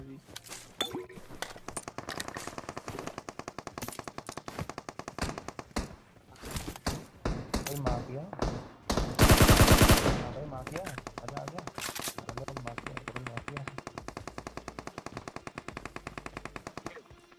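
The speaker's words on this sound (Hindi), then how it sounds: "यहां पर यह बंदा यूएमपी चला रहा है या फिर M249, पता सा नहीं चल रहा है। खत्म ही नहीं हो रही उसकी गोली।" Rapid automatic gunfire from a UMP or M249 in a video game rattles in long sustained bursts with a louder dense volley midway, under someone talking over the action.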